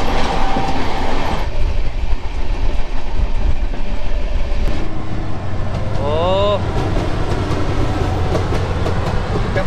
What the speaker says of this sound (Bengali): ফাঁকা ট্রেন আসছে, কেউ নেই,